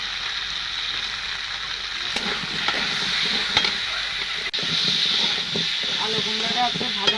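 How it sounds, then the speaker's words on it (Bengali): Potato and pumpkin chunks frying in a pan for a vegetarian dish, a steady close sizzle and hiss with occasional scraping stirs throughout, no talking. "আলু কুমড়োটা একটু ভাজা ভাজা করে নিয়েছি।"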